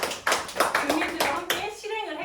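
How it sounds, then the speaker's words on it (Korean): Residents at a village community education session clap briefly in a few distinct, fairly close beats, fading as a voice carries on. "박수 한번 부탁드리겠습니다"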